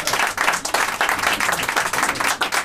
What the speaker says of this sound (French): on a le droit d'applaudir